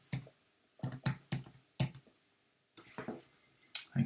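Keys clacking on a computer keyboard in short bursts of quick taps separated by brief pauses, close and clear with no talking.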